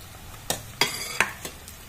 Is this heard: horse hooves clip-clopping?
no